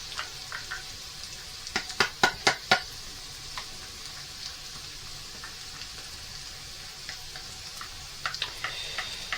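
Onion softens and frying in a pan with a faint, continuous sizzle, broken by a quick run of sharp clatters like a utensil striking the pan, then sparse light taps.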